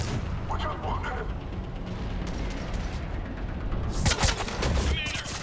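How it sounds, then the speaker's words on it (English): Mortar fire in the video game Mass Effect 3 on a Turian planet: dense, continuous rumbling barrages with a heavier burst near the end, under a voice. "Commander, we're getting a lot of mortar fire."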